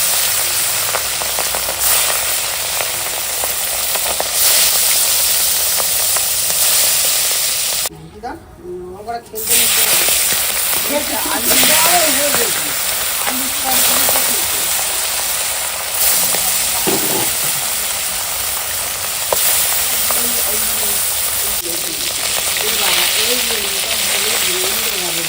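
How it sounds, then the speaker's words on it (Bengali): Rohu fish sizzles and spits in hot oil, a loud continuous frying hiss close by, briefly interrupted, while people talk over it. "তেল গরম হয়ে গেছে, অনেকটাই গরম হয়ে গেছে তেল। এখন মাছ ভেজে নিচ্ছি।"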